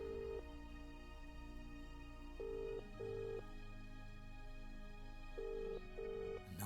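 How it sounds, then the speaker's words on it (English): A telephone rings in a video game call, repeated electronic ring bursts with pauses between them over a soft background bed of game music. "we got Bexley on our phone now"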